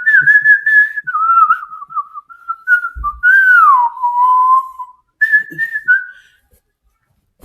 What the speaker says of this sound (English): that was a little bit of my whistling